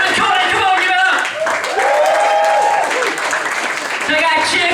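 Comedy club audience applauding comedian Evan Colley, loud sustained clapping and cheering filling the room, with a host's voice speaking over it.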